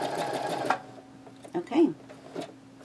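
Sewing machine stitching a custom kitchen towel, a dense steady whirring run for the first moment, then stopping, followed by a few scattered short mechanical bumps and fabric handling sounds close by.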